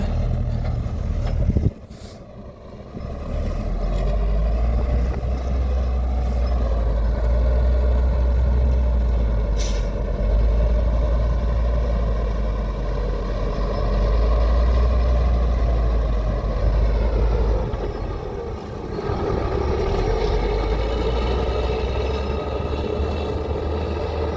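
A K-701 tractor with a clogged fuel filter drives on, its heavy diesel engine holding a loud, deep, continuous drone for a long stretch, with a brief dip in loudness near the start.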